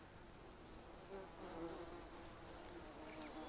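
Bees buzz in a steady, faint swarm around a beehive in Green Hell, a continuous close drone with occasional louder passes.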